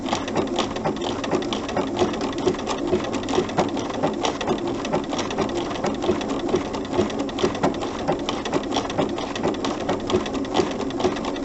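A sewing machine stitching appliqué runs in rapid, even bursts of needle clatter, close and moderately loud, with a steady mechanical rhythm throughout.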